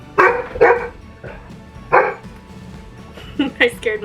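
A pet dog barks sharply several times close by, three loud barks spaced apart followed by a quicker burst of yips near the end, with a little speech in between.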